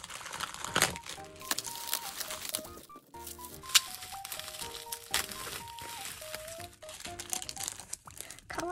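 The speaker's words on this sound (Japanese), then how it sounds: "パラライアニメーションのグッズを開封していきます。" Anime merchandise packaging being unwrapped, close crinkling and rustling of plastic wrap with small tearing and crackling bursts, with faint background music underneath.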